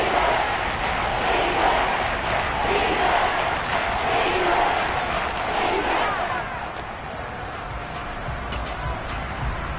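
A stadium crowd at an American football game roars steadily, a broad, loud wash of cheering that swells as a big third down approaches and eases slightly toward the end.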